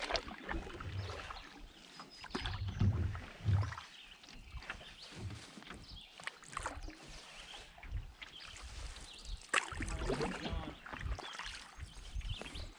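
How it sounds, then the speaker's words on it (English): A canoe paddled across a lake in the Boundary Waters wilderness, with soft splashes and water swirls, light wind buffeting the microphone and faint birds far off. "Want me to stop paddling?"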